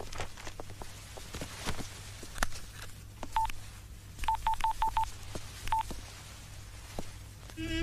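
A telephone number being dialed on a phone, with a series of clear, evenly spaced keypad tones in quick succession, the dialing rising over a background of faint footsteps and room noise.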